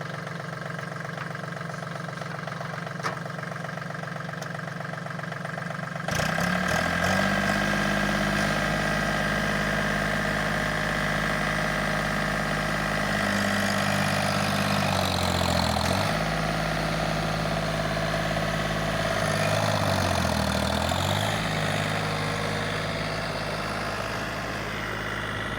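A John Deere 3036 N tractor with a 36 HP engine and a fitted fan, running steadily at idle with a deep, heavy rumble and a few dips and rises in engine speed, close and continuous with no talking.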